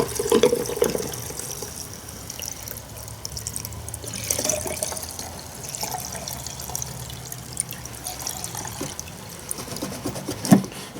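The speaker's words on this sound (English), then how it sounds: "let's top up some gas here." Gas pours into the fuel tank of a Stihl MS271 chainsaw, a close, continuous trickling and gurgling of liquid with small splashes, swelling and easing slightly as the pour goes on.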